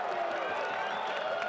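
A stadium crowd roars and cheers after a goal at a USL Championship soccer match, a dense, sustained wash of distant voices that stays steady throughout.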